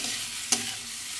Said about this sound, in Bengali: এইভাবে সুন্দর করে ভাজতে হবে